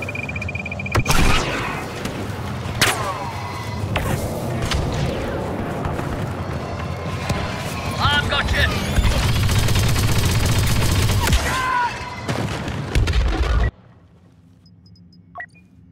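Dense blaster gunfire and explosions from a Star Wars Battlefront 2 battle defending the Wookiee homeworld, with rapid crackling shots and booming blasts layered continuously for about fourteen seconds before cutting to near silence with a faint beep.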